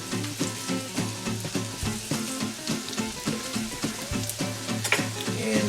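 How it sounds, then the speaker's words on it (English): Garlic cloves and cumin seeds splutter in warm ghee with a dense, close crackle and sizzle, pulsing slightly as the pan is stirred, with no talk. "Let's start by adding some garlic cloves. Okay. While they're spluttering, let's add zira."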